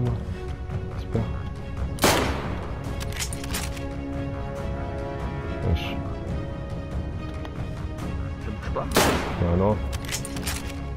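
Two Mosin rifle shots in DayZ, sharp and loud about seven seconds apart, over steady game ambience and background music with people talking in between.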